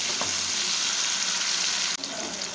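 Tomatoes, skinned and deseeded, fry with sautéed onions in a pan for aloo matar, giving a steady close hiss and sizzle throughout, with a brief stir or clatter near the end.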